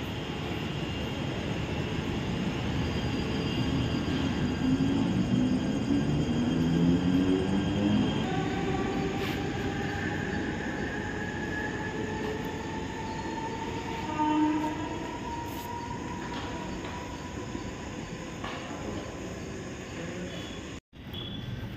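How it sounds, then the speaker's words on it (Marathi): A mini train runs at a railway station near Neral, a steady rumble of wheels with long tonal horn or squeal lines drifting across, fairly loud and sustained throughout. "मिनी ट्रेन तिकडे रेल्वे स्टेशन मध्ये तिकडे"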